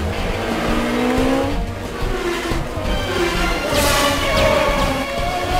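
Race cars roar past in an animated street race around Gotham, with a continuous loud engine drone, rising whines and tire squeals over several seconds and no talking.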